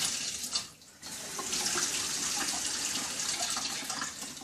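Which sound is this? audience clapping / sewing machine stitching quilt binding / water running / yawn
water running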